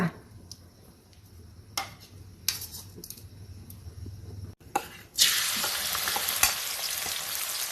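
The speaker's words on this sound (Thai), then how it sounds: "ใส่พริกกับกระเทียมจ้าผัดให้หอม" Oil sizzles and crackles in a hot pan with occasional clinks of a utensil, then a loud burst of frying as chili and garlic hit the oil and keep hissing.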